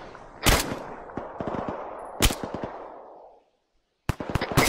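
In the video game ARMA 3, a fragmentation grenade detonates inside a bunker amid sharp gunfire cracks, with two loud blasts and their decaying rumble, a brief silence, then more rapid shots.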